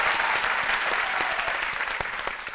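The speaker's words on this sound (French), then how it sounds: "Et ça s'applaudit." Dense, sustained applause from a live studio audience on a TV talk show, steady and loud across the whole stretch with individual claps flickering through the wash, fading slightly toward the end.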